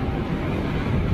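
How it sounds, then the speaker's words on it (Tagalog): Strong outdoor wind buffeting the microphone on a breezy sunny day, a continuous loud low-pitched rumbling roar with no pauses, close and steady, with no one speaking. "Mahangin talaga ngayon. Masarap ang hangin."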